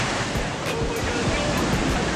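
Ocean waves in Hawaii wash in with a steady, loud, broadband surf roar, continuous and close, with no talk over it.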